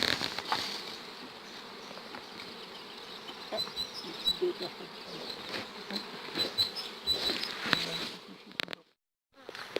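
Honeybees buzz at the entrance of a hive during colony division in apiculture, a dense, steady hum of many bees close by with light tapping, before a short sudden silence at the end.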